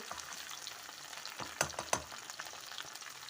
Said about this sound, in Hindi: हमारी भिंडियों की भुनाई हो रही है आलूओं के साथ, प्याज़ों के साथ।